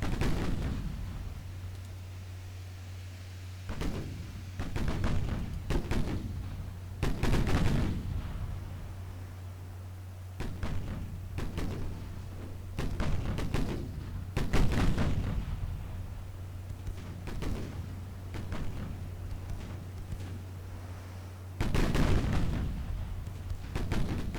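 Naval guns firing in the warship strategy game Ultimate Admiral Dreadnoughts, with repeated booming salvos at irregular intervals over a steady low rumble and background din, loud and without talk.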